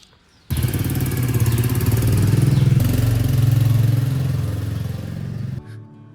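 A Royal Enfield Meteor motorcycle engine rumbles to life at the start of a ride, a loud, steady low thumping drone held close for several seconds before it drops away.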